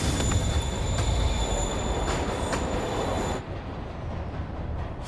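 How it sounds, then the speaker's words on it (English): A train on a rail line in Marvel's Spider-Man Remastered rumbles loudly with squealing wheels and a steady metallic roar, then drops abruptly in level partway through as it pulls away. "Train moving. Lee's getting away."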